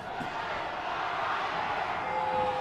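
St. John's fans make a steady, dense roar of crowd noise at a high school football championship game, loud for the small crowd and continuous throughout.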